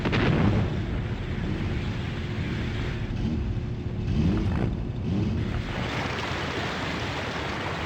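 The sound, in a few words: artillery firing in a video game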